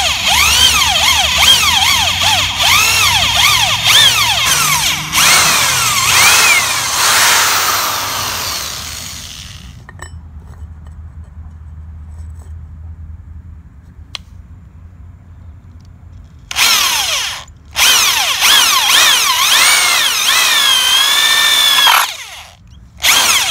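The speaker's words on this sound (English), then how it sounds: "Alright, I just got through drilling the holes" A power drill whines loudly in long bursts while drilling holes, its pitch rising and falling as it bores, with quieter pauses between runs.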